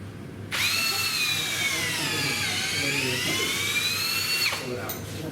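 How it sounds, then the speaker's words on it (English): A cordless power drill driving a probe into a hay bale to core a forage sample whines steadily for about four seconds, close and loud, its pitch dipping slightly under load, with voices faintly in the background. "So just push on the drill."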